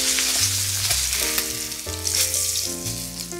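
A steak sizzles steadily in a hot pan, a continuous close hiss running beneath louder music throughout.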